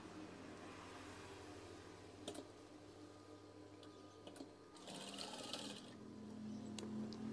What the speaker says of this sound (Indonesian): Lipat saja. Setelah itu jahit.